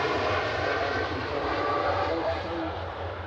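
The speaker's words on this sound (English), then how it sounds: "There's Tui Dreamliner on the roll," A TUI Boeing Dreamliner jet accelerates on its takeoff roll, a loud, steady broadband engine roar that stays constant throughout with a low rumble beneath, heard close and continuous.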